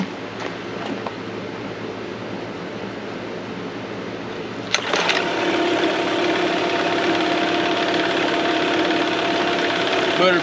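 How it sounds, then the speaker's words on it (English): An outboard boat motor is quiet at first, then catches with a sudden burst after one pull and settles into a loud, steady running drone close by. Someone talks over the motor. "Motor fired right up, first pull."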